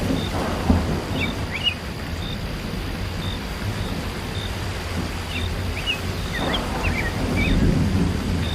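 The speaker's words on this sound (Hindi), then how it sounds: "ये बारिश और तूफान तो मुसीबत ले आता है।" Cartoon thunderstorm with rain: a steady wash of rainfall with two soft thunder rumbles, one near the start and one later, plus repeated short chirping bird calls above, no speech.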